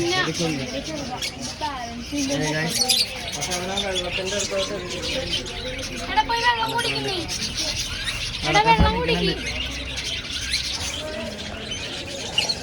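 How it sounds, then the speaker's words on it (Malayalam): Several birds squawking and chattering together, a busy overlapping mix of calls, with people talking nearby throughout. "കൊറേ കിളികളുണ്ട് ഇതിനകത്ത് കേട്ടോ"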